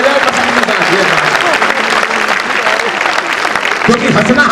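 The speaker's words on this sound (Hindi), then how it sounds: "तालियां जरा जोरदार बजाओ पसंद के साथ" Loud, dense audience applause at a Hindi poetry gathering, a sustained wash of many hands clapping up close with crowd noise and a voice speaking over it near the end.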